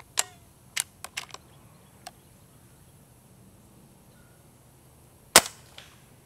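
A Benjamin Fortitude .22 air rifle with a shrouded, silenced barrel fires with sharp, dry cracks. Several small snaps come early, then one louder pop near the end, each brief and quiet against faint outdoor background.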